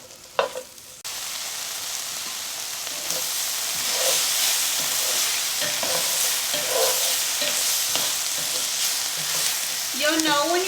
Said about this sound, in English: Just make sure you do stir them around a bit so they can all get nice and caramelized.